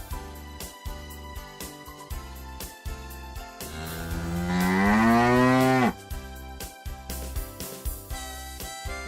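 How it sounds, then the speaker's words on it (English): A long, loud cow moo rises and holds for about two seconds over a steady, rhythmic musical backing that plays before and after. "cow"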